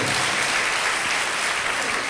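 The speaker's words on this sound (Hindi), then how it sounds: "ताली बजा के परमेश्वर को धन्यवाद दीजिए।" A congregation at a Sunday church service claps steadily in thanks to God, a dense, continuous wash of applause that stays loud and even from start to finish.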